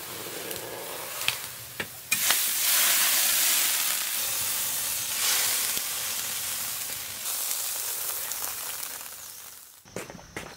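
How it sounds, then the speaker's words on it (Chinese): Sliced pork kidney sizzles and hisses steadily as it hits a hot pot for spicy Sichuan-style mala kidney, a loud continuous fry with a few sharp pops and a brief quiet gap near the end. "下入腰花儿， 腰花儿别煮九分的话，煮一分钟就要得了"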